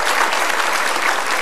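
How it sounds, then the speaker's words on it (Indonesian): Dense, steady applause from a studio audience at an Indonesian television talk show, loud and continuous throughout the short burst with no speech over it. "Boleh kasih tepuk tangan Pak Ahmad Yani."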